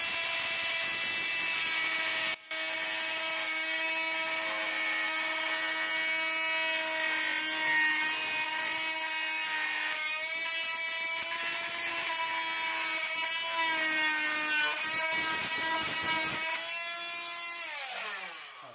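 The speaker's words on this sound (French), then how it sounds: "avec le multitool, on va découper et tu vas voir comment c'est facile" An oscillating multitool cuts through plasterboard with a loud, continuous high-pitched whine that holds for nearly twenty seconds, its pitch wavering slightly before it dips and winds down at the end.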